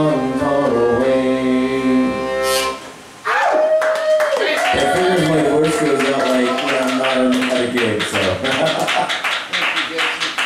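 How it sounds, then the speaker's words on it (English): Audience clapping after a live song at a variety show, starting after sustained music fades, with dense sharp hand claps and a voice speaking over the applause. "give him a round of applause"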